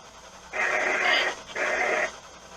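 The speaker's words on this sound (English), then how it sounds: "It's a dog." A dog gives two breathy, whining vocal bursts close by, each lasting about a second, with a short pause between them.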